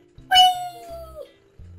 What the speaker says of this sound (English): See my little cat?